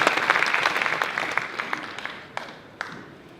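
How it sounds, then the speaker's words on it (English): Audience applause at a wealth and property expo, a burst of clapping that fades quickly, leaving a few isolated claps at the end. "So give yourselves a round of applause."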